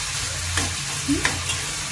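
Steady sizzling of small broad beans frying in a pan, with a few soft scrapes of a spatula stirring, close and moderately loud.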